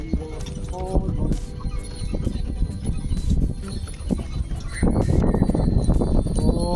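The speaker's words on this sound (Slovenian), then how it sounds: "To je pa res super, evo, v kočiji se pelem." Hooves clip-clopping steadily from a horse pulling a carriage on a ride, close and continuous under people chatting.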